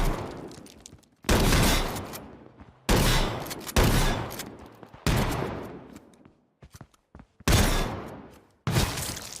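Shotgun blasts in the H1Z1 battle royale game, several loud close booming shots spaced a second or two apart, each with a sharp attack and a long decaying tail, with a few smaller clicks between them.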